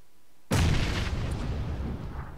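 A grenade detonates in the PUBG video game, one sudden loud blast after half a second of quiet, then a rumbling decay that fills the rest.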